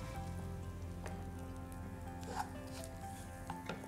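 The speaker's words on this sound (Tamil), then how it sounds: "கருவேப்பிலை, இது எல்லாத்தையும் சேர்த்து நல்லா வதக்கணும்." Curry leaves and other ingredients for a pumpkin and red cowpea erissery sauté in a pan with a soft, steady sizzle and light crackle, a few faint clinks, quiet and without talk.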